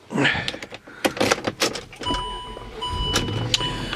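A 2006 Land Rover LR3 HSE cranks and starts, with clicks and a short whir before the engine settles into a low steady idle, heard close up inside the vehicle with no talk.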